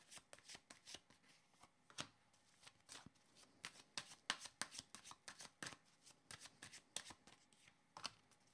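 Playing cards shuffled repeatedly in quick riffling bursts, a close, crisp rustle and flutter running throughout with short pauses between shuffles.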